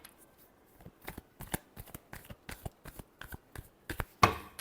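Tarot cards are shuffled by hand in a quiet room, a string of crisp riffling and slapping bursts at an uneven rhythm, close and fairly soft, ending in a louder final snap.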